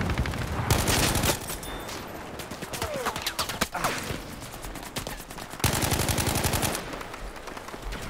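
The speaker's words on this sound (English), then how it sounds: "people are shooting from the most random spots" Rapid automatic gunfire from Battlefield 5 on Wake Island rattles in close, loud bursts, with other shots and battle noise scattered between them and a second long burst near the end.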